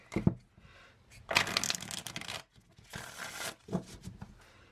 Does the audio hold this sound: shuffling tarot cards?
yes